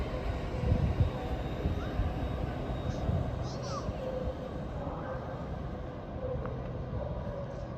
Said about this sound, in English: (802-209), forming the 1607 Transpennine Express service to Newcastle from Liverpool Lime Street.